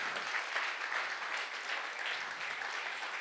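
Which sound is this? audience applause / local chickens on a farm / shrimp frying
audience applause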